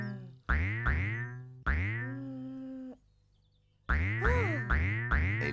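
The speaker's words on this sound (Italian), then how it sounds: "Lala gioca con la palla." Cartoon boings sound in a Teletubbies episode as a ball bounces, loud springy twangs sliding downward, two pairs separated by a short pause, then a quicker burst of several boings.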